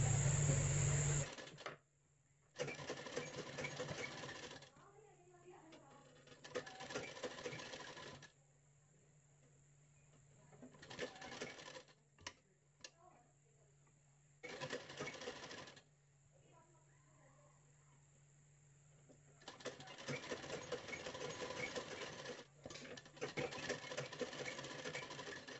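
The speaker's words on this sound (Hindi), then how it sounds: "अच्छे से बनाते हुए सिलाई लगा देना है।" A sewing machine stitches a blouse sleeve in several bursts of rapid mechanical clatter separated by quiet pauses, heard close and fairly loud.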